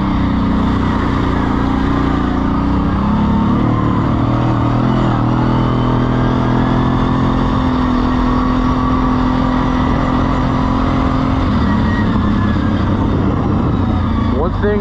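A quad ATV engine drones steadily and loudly while riding up a mountain trail, a continuous close-up hum with a slight shift in pitch about two-thirds through.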